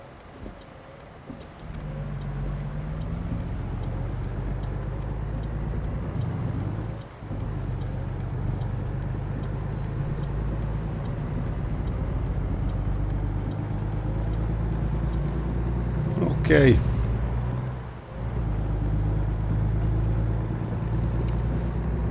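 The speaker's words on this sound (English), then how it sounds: "The engine sound." Low, steady truck engine drone in a truck driving video game, running continuously as game audio, rising slightly with a brief high whine near the end and a short spoken word at the start.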